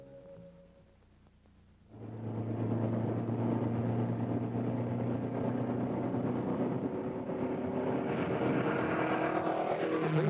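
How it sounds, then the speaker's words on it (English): A 1962 Ford Mustang concept research car starts quietly, then its engine rises into a loud, steady drone as it drives on test, holding a sustained roar for the rest of the clip. "seeing this research car put through its paces for the first time"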